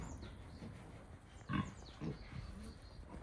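Black pigs on a natural-raised farm in Muan give a few low, close grunts over steady background noise.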